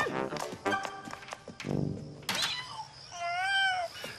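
A cat on a hotel ledge lets out several meows, one drawn out and rising near the end, with a few thumps and brief voices mixed in.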